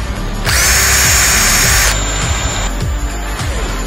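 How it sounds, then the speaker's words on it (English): A handheld power drill spins up for about one and a half seconds with a loud, high, steady whine, then stops, leaving some lighter mechanical clicks and knocks. "A drill."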